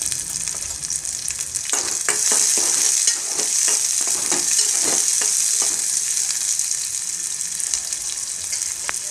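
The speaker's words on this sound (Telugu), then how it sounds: "ఆనియన్ మంచిగా రెడీష్ అయ్యేంత వరకు మంచిగా మిక్స్ చేసి కలిపేసేయండి" Onion fries in oil with cumin and mustard seeds for a tomato curry, a loud, steady sizzle broken by a run of quick ladle scrapes and clinks as it is stirred, heard close and without talk.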